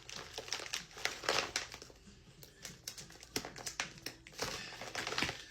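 Plastic MRE military food packaging crinkles and crackles in irregular bursts as it is handled and torn at, close and fairly quiet, with no talking.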